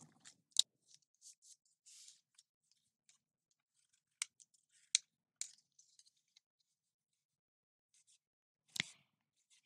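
Scissors cut paper for a Christmas scrapbook album page, giving a scattered series of quiet, crisp snips and clicks with pauses between them, close and without talk.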